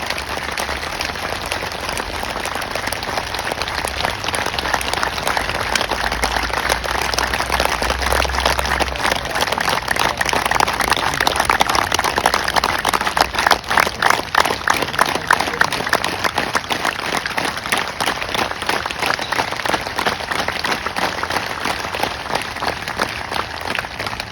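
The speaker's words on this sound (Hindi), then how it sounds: "योगियों की तालियां हैं।" Sustained applause from yoga class participants at a mental health camp, a dense steady clatter of many hands that swells slightly midway, with a faint rain-like texture and no clear talk.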